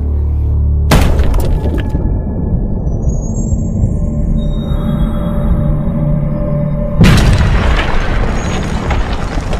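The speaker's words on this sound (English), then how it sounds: "we can see just how much damage a heavy stone mace can inflict on the bones of a skull" A heavy stone mace smashing into the bones of a skull, giving a loud, close crushing boom and shatter that rings on, then a second heavy impact bursts in near the end.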